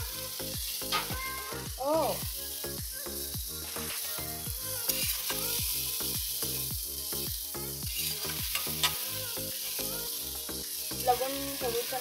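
Vegetables tipped into a hot pan with softened onion and garlic sizzle and fry steadily, with the clatter of stirring and scraping running throughout and a brief voice at one point.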